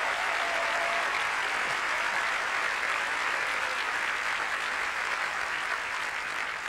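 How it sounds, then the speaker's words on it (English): A church congregation claps in praise during a worship service. Dense, continuous applause from a large crowd holds steady throughout, with no voices standing out. "Give the Lord a hand clap of praise."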